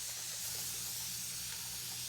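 Water spray bottle misting onto a face during makeup prep, a soft continuous hiss that stays faint and steady, with no talking.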